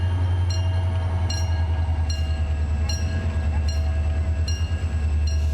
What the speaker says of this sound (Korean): 화물 열차가 경부선 상행 무궁화호를 먼저 보내기 위해 건널목을 천천히 통과하고 있습니다